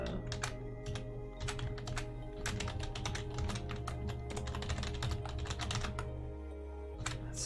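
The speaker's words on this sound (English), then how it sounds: "typing license into a terminal" Continuous rapid typing on a computer keyboard at a terminal, dense irregular key clicks close up with a steady low hum underneath, briefly pausing near the end before resuming.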